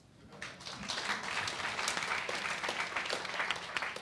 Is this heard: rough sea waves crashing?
no